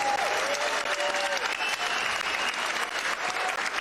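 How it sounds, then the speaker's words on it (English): Dense, steady applause from a big audience at a Muay Thai fight event fills the whole stretch, loud and continuous, with a brief whistle near the start. "Can we get another big round of applause for both of these fighters"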